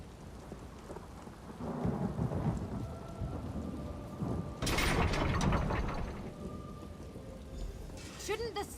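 A raging tempest of thunder and heavy rain in Elder Scrolls Online's Summerset: loud rolling thunder cracks over a constant downpour, with mechanical ratcheting clicks in between.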